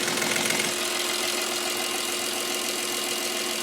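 A diesel engine fitted with a freshly rebuilt Stanadyne DB4 injection pump idles low and steady, a constant close rumble with a faint rhythmic knock running through it.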